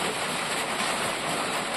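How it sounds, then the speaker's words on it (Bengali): Rain falling during a low-pressure storm, a dense, even hiss that holds steady and close for a brief moment with no talk. "এই যে বৃষ্টি শুরু হয়ে গেল"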